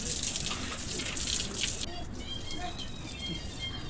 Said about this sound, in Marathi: त्यानंतर मी ना पाणी मारून घेतलं अंगणामध्ये झाडाला पण